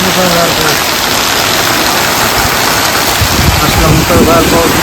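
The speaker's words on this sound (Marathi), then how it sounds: "खूप मुसळधार पाऊस आहे" Heavy unseasonal downpour at Kille Dharur, a dense, steady roar of rain drumming on surfaces, loud and close throughout, with a voice talking excitedly over it.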